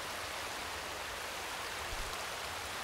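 Steady rushing water from waterfalls in a climbing video game, a constant broadband wash with no talk over it.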